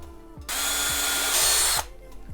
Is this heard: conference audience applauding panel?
no